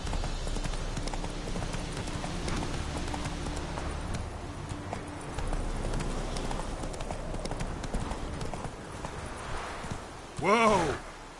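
Horse hooves clip-clop at a steady walking rhythm in a video game, close and continuous under a faint ambient bed, ending with a short loud whinny-like cry near the end.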